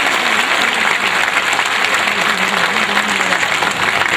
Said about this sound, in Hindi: जोरदार ताली से इस्तेमाल कीजिए।